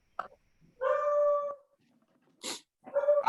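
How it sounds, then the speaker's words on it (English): A dog howls and yips in short bursts, with one long drawn-out howl followed by a sharp bark and another rising howl, fairly close with quiet gaps between, during an online gathering. "Somebody needs a mute for their dog."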